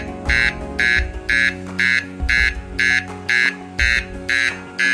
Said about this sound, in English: The alarm will not stop until you pull out or clean the area which the sensor is passing through.